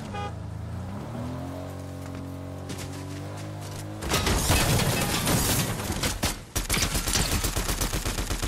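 Dense bursts of rapid gunfire in Fortnite break out midway through, loud rattling volleys layered over a constant background hiss, following a few seconds of a sustained tonal game sound.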